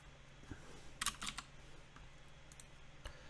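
Keys clacking on a computer keyboard in short quiet bursts, a quick cluster of taps in the middle and a few scattered presses after, soft and close with no talking.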